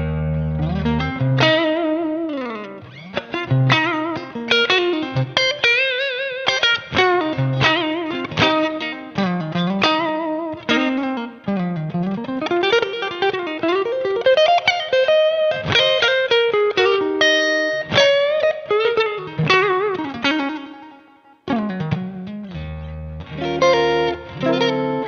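Electric guitar played through the split neck pickup of a Planet Tone Legacy PAF-style humbucker, a continuous run of melodic single notes and chords with effects, loud and steady with a brief pause near the end.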